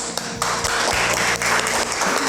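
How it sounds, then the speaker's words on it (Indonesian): A classroom of students claps together, a burst of dense, uneven hand claps from many people nearby, mixed with a few sharper taps and brief vocal sounds. "Tepuk tangan."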